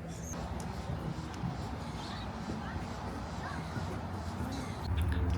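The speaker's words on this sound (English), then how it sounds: "All those birds in that tree with their nests." Nesting birds in a tree at an alligator farm give scattered caws and chirps, faint and distant over a constant noisy background, with a voice present.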